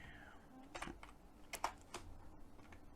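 Code is typed on a computer keyboard during a C programming lecture on pointer dereferencing, a quick run of soft, close key clicks in short irregular bursts, fairly quiet.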